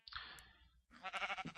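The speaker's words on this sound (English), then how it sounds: "Hello, sheep." Sheep in the video game Minecraft bleat twice in quick succession, short, close and fairly quiet.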